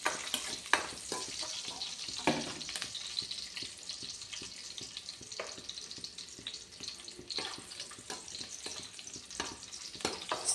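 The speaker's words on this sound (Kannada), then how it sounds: "ಸ್ವಲ್ಪ ಒಗ್ಗರಣೆ ಸೊಪ್ಪು ಅಂದರೆ ಕರಿಬೇವು ಎಲೆ ಚೆನ್ನಾಗಿ ಫ್ರೈ ಮಾಡಿಕೊಂಡು" Curry leaves crackle and spit in hot oil for a tempering, a dense, continuous sizzle with frequent sharp pops and occasional clinks, steady and fairly close.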